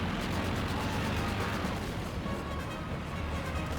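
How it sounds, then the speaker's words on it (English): Stuka close air support in Company of Heroes 2, a dense rumbling barrage of gunfire and explosions in a battle, continuous and moderately loud with no clear gaps. "And we also have the Stuka close air support getting some shots in there"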